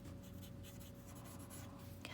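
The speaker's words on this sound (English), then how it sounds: "Just want to make sure that my pencil marks are smooth" Graphite pencil shading on paper in steady, soft strokes, a continuous close, faint scratchy hiss heard alone, with a slightly sharper scrape at the end.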